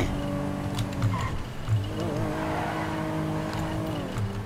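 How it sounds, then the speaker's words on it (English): A hearse engine from GTA 5 Online hums and revs as the car drives along, its tone rising and falling steadily with gear changes, close and moderately loud, with no talking. "the hearse has a pretty good sound to it"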